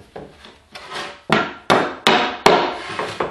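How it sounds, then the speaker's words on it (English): A hammer strikes a wood block to press-fit a bronze bearing sleeve into a wind turbine lid, giving about seven sharp, hollow knocks that come faster and louder toward the end, each followed by a short ringing decay. "put your wood on here, and then hit with your hammer"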